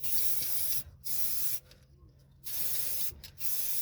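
Copper grease from an aerosol can sprayed onto a Ford Fiesta Mk6 brake hub in four short bursts, a loud, close hiss with brief pauses between each burst.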